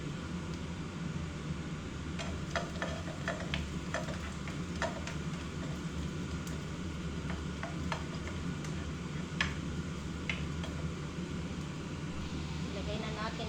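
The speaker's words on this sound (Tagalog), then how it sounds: "i-fry natin ng sandali ang beef" Beef being stir-fried with ginger and garlic in a pan, a steady soft sizzle running throughout with light scraping and clinking of a utensil against the pan.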